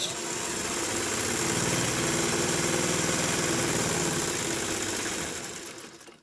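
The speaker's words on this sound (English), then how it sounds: "And we're just going to sew." A sewing machine runs a straight stitch through fabric for a face mask. Its dense, even motor whir and rapid needle clatter hold steady for several seconds at close range, then slow and stop.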